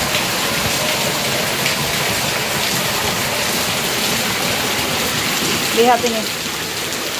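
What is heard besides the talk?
heavy rain and floodwater from rice fields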